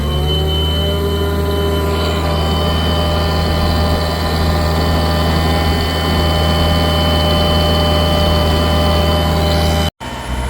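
An Altec spider lift's hydraulic pump drones loud and steady as its outriggers extend and lower, a constant close mechanical hum with a slight shift in pitch partway through and a brief cut near the end.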